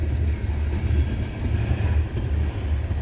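A long CSX coal train rolls past slowly in snow near Bartholows, Maryland, braking for a signal, a close, heavy low rumble with faint rhythmic wheel clatter and no voices.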